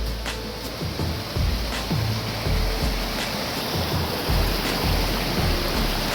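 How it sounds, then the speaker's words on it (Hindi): Water falls and splashes steadily in several spots around a village field water channel, producing a loud, continuous rushing wash close by with occasional heavier splatters and no speech. "और ये पानी गिर रहा है जगह जगह,"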